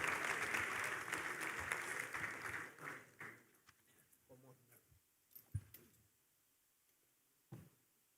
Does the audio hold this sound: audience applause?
yes